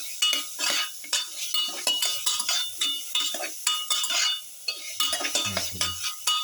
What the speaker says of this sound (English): Thoroughly mix in the mutton piece.